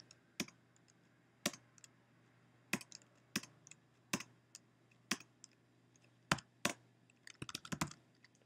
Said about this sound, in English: Put in your username, and password.